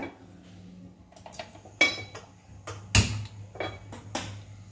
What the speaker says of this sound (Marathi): त्यासाठी आपल्याला गॅसवर पॅन ठेवायचा